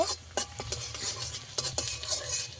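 Chopped ginger and garlic frying in a pan, a steady soft sizzle with scattered clinks and scrapes of a spoon stirring, close and continuous.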